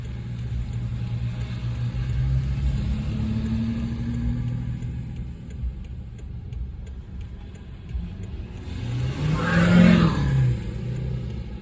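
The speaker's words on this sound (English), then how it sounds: "A diesel pickup truck." Diesel pickup truck passing on a town street along a state highway in winter, its engine rumble rising as it approaches and peaking loud and close near the end before fading slightly.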